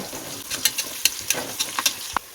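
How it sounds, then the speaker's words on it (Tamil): Chopped large onion sautéing in hot oil inside a pressure cooker gives a short, steady sizzle, punctuated by several sharp scraping taps of a spoon stirring against the pot. "இப்போ நான் ஒரு பெரிய வெங்காயத்தை கொஞ்சம் இப்படி கட் பண்ணி வச்சுருக்கேன். அதை நல்லா வதக்கிப்போம்."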